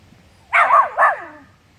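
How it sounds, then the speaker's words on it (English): A frustrated feral dog lets out two quick, close barks in a row, loud and clear against a quiet background. "she barked at me to say, tell me, tell me, tell me."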